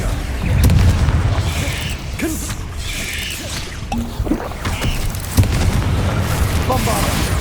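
Repeated magical blasts, booming spell impacts and bursts crackle through a noisy Hogwarts Legacy battle, with layered rumbling effects and short pops continuing throughout.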